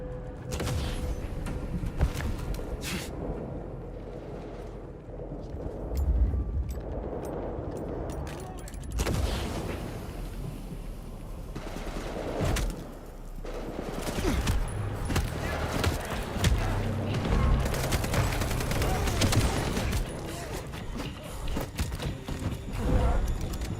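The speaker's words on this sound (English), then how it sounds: "Alright, well the shotgun's effective at least." Shotgun blasts boom in the video game Vampire the Masquerade: Bloodlines 2 among dense combat noise, a few loud shots spread across a chaotic fight with clattering effects.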